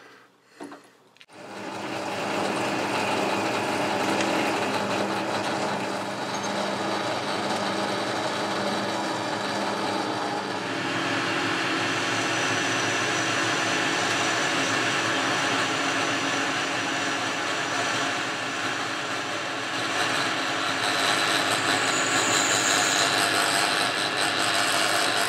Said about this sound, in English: Now I'll change the drill to a 8mm drill.